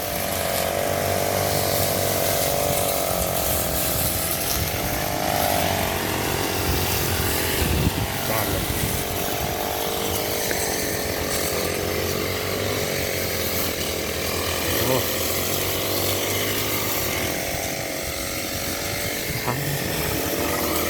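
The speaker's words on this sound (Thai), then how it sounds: "ก็ได้เครื่องตัดหญ้าสปายเนี่ยช่วยได้เยอะเลย" A small two-stroke grass trimmer engine whines continuously at high revs, steady and close, with slight rises and dips in pitch throughout.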